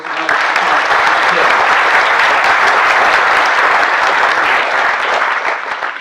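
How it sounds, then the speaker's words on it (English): An audience at a bird photography awards ceremony applauds the third place photograph, dense steady clapping filling the room at full strength for about six seconds. "Let's have a round of applause."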